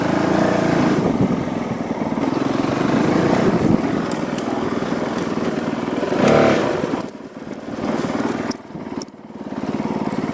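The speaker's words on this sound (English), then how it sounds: "driving a larger, kind of heavier bike like a dual sport through stuff like this" A Honda CRF450L dual sport motorcycle churns through a muddy, greasy trail, its engine droning steadily and close with surges of revving, clattering bursts and a brief dip near the end.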